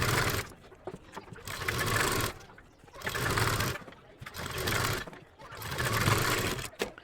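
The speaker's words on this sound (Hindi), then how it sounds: "यहाँ पर हमको डबल सिलाई लगानी है।" A sewing machine double-stitches the shoulder seam of a kurti in bursts of steady whirring, several runs separated by short pauses, loud and close with no talk.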